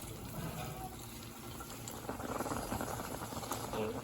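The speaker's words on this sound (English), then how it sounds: "I hear my rice starting to boil" Rice bubbling and rumbling as it comes to a boil in a pot, a steady low churn of water that swells slightly toward the end.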